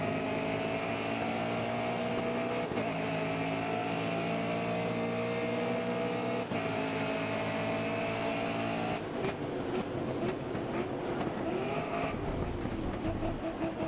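A racing video game car's engine drones steadily at high revs for most of the stretch, then turns rougher and more broken near the end, loud and constant with no talk over it.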